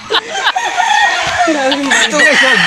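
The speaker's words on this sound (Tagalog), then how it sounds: "Manok pa lang, guys, oh. Ang daming manok." Several chickens cluck and a rooster crows loudly nearby in the Philippines, near Tagaytay, overlapping calls filling the air, with a voice briefly audible among them.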